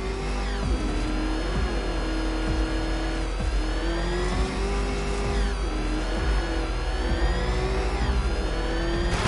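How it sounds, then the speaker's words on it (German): An engine revs hard and races in Batman Arkham Knight, with rising and falling pitch sweeps as the car speeds up and shifts. The sound is loud, continuous and up close, with no talk over it. "Ob der klapprige Motor das wohl hinkriegt?"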